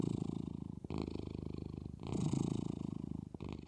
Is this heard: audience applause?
no